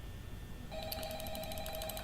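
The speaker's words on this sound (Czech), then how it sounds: "Zvedni ten telefon." A telephone in the horror video game Five Nights at Freddy's starts ringing partway through, a steady repeating electronic ring heard clearly on its own over a low background hum.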